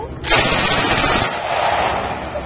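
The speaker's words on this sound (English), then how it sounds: "We'll show you the Browning automatic rifle." A Browning automatic rifle (BAR) firing blanks: one loud, close, rapid burst lasting about a second, followed by lingering echo and ambient noise.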